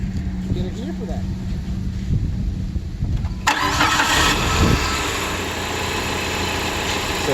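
A PT Cruiser engine, just fitted with a replacement turbo cartridge, cranks briefly and catches partway through, then settles into a steady smooth idle; someone talks before the start.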